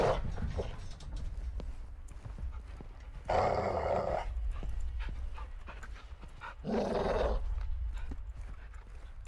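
A large caged dog in a tactical shooter video game growls and pants, low rough breaths in two louder bursts over quiet game ambience, with no talk.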